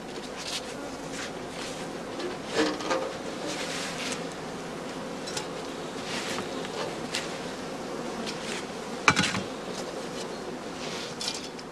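Bees hum steadily around straw heather skeps in a heathland apiary while being fed, a soft, continuous close buzz with a few faint knocks and clicks.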